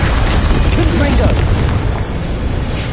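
Confringo blasting curse explosions in Hogwarts Legacy, a loud continuous booming rumble of spell blasts and combat noise, with a brief voice cry partly under it.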